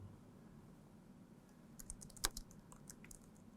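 Quiet typing on a computer keyboard during a programming lesson, with scattered soft keystrokes and one sharper key click over a low room hum, faint and with no talking.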